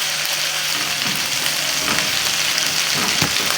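Onion and ginger-garlic paste sizzling steadily in a pan, a continuous close frying hiss with occasional louder crackles as it is stirred, no voices.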